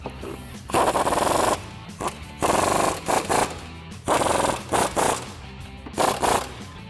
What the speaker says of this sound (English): I'm gonna take a 15mm socket and tighten them down.